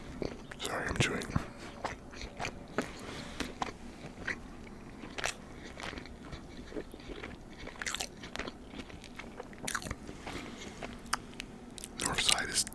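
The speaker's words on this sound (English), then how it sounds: "sorry, I'm chewing." Close, crisp chewing and biting of a ham sandwich with chopped salad, with repeated crunchy bites and wet mouth sounds spread throughout, plus soft whispery noises in between.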